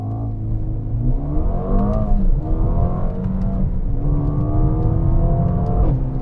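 A Mercedes-AMG CLA35 engine revs up and falls back several times in quick succession. Loud, close rising sweeps follow one another, with small crackling pops from the exhaust between revs.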